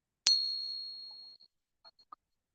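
A silver Morgan dollar rings out after a sharp strike, its clear tone holding for about a second before fading, followed by a few faint small clinks.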